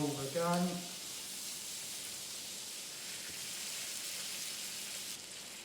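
Welsh wagyu beef sizzles steadily in a hot pan as it is turned, a continuous fine crackling hiss at moderate level, with a brief clattering tone near the start.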